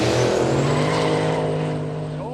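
A station wagon racing at Kooralbyn Valley quick street roars loudly close by, engine note steady and then easing slightly as it passes, with voices talking over it.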